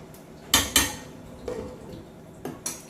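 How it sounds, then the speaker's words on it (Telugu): A metal lid set onto a cooking pot of egg and drumstick curry, with two sharp clanks close together, a softer rattle, then two more light clinks, near and clear in a quiet kitchen. "ఇంక ఇదైతే జస్ట్ అలా కలిపేసి మూత పెట్టేద్దాం."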